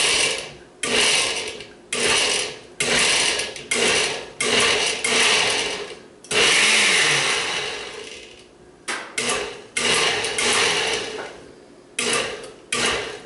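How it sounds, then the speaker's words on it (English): Short bursts from a blender pulsing garbanzo beans into coarse hummus. Each burst is about a second long and is followed by a brief pause. The rhythm is loud and choppy, with a longer continuous whir in the middle. No one speaks. "let's go ahead and blend this"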